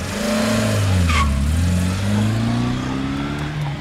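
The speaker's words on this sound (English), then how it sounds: "someone's pulling up outside." A car engine hums and slowly shifts pitch as the vehicle rolls in nearby, with a brief high squeal partway through.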